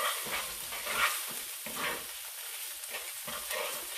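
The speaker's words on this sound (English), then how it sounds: "we're going to scrape up those brown bits on the bottom" A utensil scrapes browned bits from a pan bottom during chicken tikka masala prep, making rhythmic rasping strokes over a soft sizzle, fairly quiet and close, with no voices.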